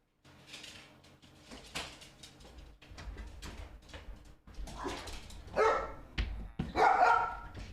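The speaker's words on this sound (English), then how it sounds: "You might hear some barking for a minute while they settle themselves down." Several dogs bark in bursts, with yips and whimpers between, near and fairly loud, the barking growing stronger toward the end.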